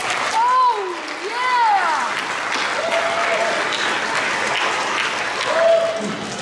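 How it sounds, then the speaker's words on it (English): A crowd at a youth flag football season showcase claps and cheers continuously, with whoops and voices carrying over the steady applause. "Please give him a round of applause."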